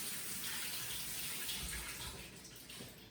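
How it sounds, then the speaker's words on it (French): Cold tap water runs steadily over about 400 g of cooked peas being rinsed, a continuous close hiss and splash that eases slightly toward the end. "je vais juste les passer sous l'eau froide pour stopper la cuisson"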